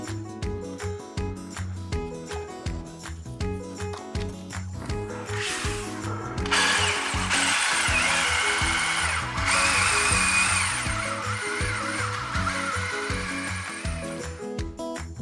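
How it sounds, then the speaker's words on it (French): A power drill fitted with a 6 mm diamond bit bores through floor tile without hammer action while water is sprayed on the bit, a steady close whine rising to a harsher, louder grind partway through, with a rhythmic low pulsing beneath. "Je vais percer en 6 avec un forêt de diamant et je le vaporise tout le temps avec de l'eau pour pas qu'il chauffe"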